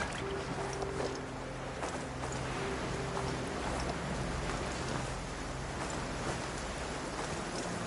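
Steady, dense rain pours down continuously in the video game Genshin Impact, a broad hiss of falling water with faint low tones underneath.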